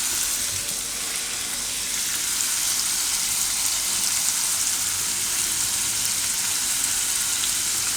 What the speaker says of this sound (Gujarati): હવે એમાં આપણે આ પનીરના ટુકડા શેકી લઈશું ધીમો ગેસ રાખીને